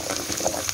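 Onions and cumin seeds frying in a pan for a chicken and turnip curry, a steady close sizzle and crackle with soft bursts of spatter throughout.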